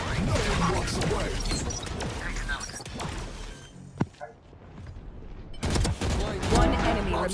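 Video game grenade blasts from a Valorant or Marvel Rivals match, loud explosive crashes and bursts of gunfire that mostly fill the clip, with a short quieter gap near the middle and a voice talking underneath.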